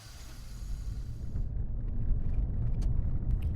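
A car drives off in an audio drama, its engine rumbling low and steady, growing slightly louder as it pulls away, with no voices.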